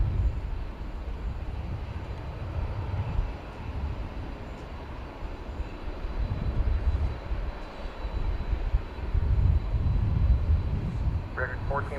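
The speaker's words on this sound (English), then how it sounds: "UPS, which has a 767 backing out now" A UPS Boeing 767 jet at DFW airport rumbles at night, a steady low engine roar swelling gradually as it backs out and taxis at a distance, with a voice talking over it.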